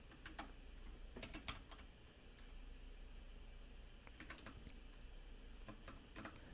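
Quiet typing on a computer keyboard, with bursts of key clicks separated by short pauses over a low background hum.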